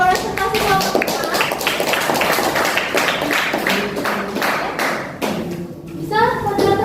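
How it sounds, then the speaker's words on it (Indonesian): A classroom audience of students claps after a group presentation, dense continuous clapping at close range with some voices mixed in. "Tepuk tangan buat presentasi kelompok 4."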